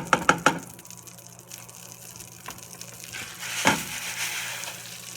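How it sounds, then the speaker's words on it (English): Rice toasting in melted butter in a pan for shredded beef taquitos, with a few sharp clacks of a utensil at the start, a steady low sizzle throughout and another stirring scrape partway through. "You're gonna let it cook until the rice is a little bit golden brown"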